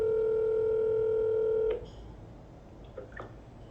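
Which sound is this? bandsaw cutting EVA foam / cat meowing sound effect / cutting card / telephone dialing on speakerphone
telephone dialing on speakerphone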